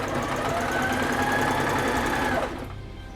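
A sewing machine stitches fabric for an alien xenomorph costume in one continuous run of close, steady mechanical whirring, then stops abruptly and leaves faint room noise.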